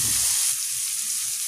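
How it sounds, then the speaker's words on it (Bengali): Chopped tomato and onion frying in oil for a tengra fish curry, a steady, hissing sizzle close by, louder at first and then settling to an even crackle without pauses. "টমেটো কুচিটা ভালোভাবে পেঁয়াজের সাথে হালকা ভেজে নেব"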